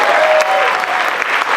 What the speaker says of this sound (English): round of applause for Sadaf